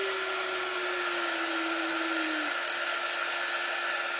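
A hair dryer blows steadily on a freshly painted decorative cutout, a constant whirring hum with a tone that slides lower early on, then holds at a moderate, even level.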